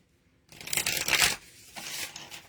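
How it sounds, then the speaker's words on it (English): A deck of oracle cards is riffled and shuffled up close: a brisk, papery flutter lasting about a second, followed by a softer second round of shuffling. "That was a good shuffle."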